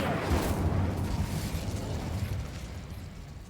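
A fire spell cast in a Hogwarts Legacy–style wizarding video game, a loud whooshing burst that blooms into a roaring rumble and then slowly fades over a few seconds, no talk.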